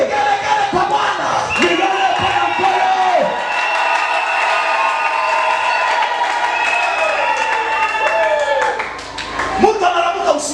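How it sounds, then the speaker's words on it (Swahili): A church congregation ululates in praise of the Lord, with loud, high, wavering trills from many voices sustained throughout, mixed with clapping and a few whoops. "Vigelegele kwa Bwana."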